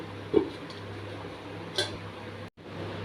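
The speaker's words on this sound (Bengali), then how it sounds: "এবার এতে ঢাকাটা দিয়ে দেব।" A lid clinks onto a pan of moong dal cooked with fish head, one short metallic knock followed by a brighter clatter, close and fairly soft over a steady kitchen hum.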